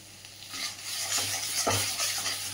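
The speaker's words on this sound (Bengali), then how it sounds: "এরকম দেখো ভাজা ভাজা করতে হবে," Ridge gourd sizzles quietly in a wok while a spatula scrapes and stirs it in a few slow strokes.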